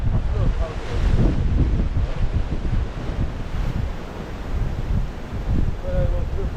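Force 8 gale at Migra l Ferha on the Malta coastline, with strong wind buffeting the microphone and rough waves surging and crashing nearby, a continuous loud, rumbling roar with irregular gusts throughout.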